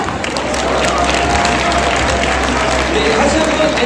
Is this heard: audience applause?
yes